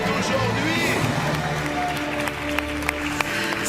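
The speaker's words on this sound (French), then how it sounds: "Soit qu'on applaudisse tellement fort Céline" A TV game show studio audience applauding a departing contestant named Céline: sustained dense clapping and crowd noise throughout, with a voice talking over it.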